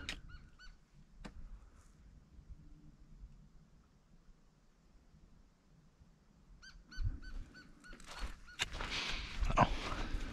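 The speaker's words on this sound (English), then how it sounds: "It's the only sound out here was that bird." A wild bird calls along a quiet hiking trail to Aylors Arch, a few faint, distant repeated calls in near silence, returning later under louder rustling and wind noise.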